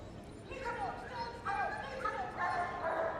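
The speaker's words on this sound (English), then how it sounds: "the dog will be deployed after a level of warnings given by the constable, and then will detain the fleeing criminal by giving a firm bite" Police dog at a West Midlands Police display at Crufts 2015, giving several excited barks and yelps in quick bursts, moderately close, with crowd and arena noise underneath.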